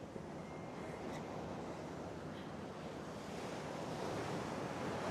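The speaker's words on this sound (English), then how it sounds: "We are at Laguna Beach. Right here, look at the waves." Ocean waves at Laguna Beach, California, a continuous wash of surf mixed with wind buffeting the microphone, steady and moderately loud with a slight swell toward the end and no talk.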